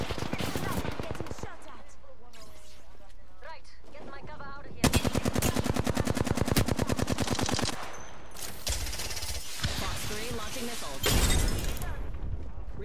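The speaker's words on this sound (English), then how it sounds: "I think somebody else is shooting though." Gunfire in the Apex Legends video game, rapid automatic bursts and rattling volleys that come and go over several seconds, loud and dense, with voices talking between the shots.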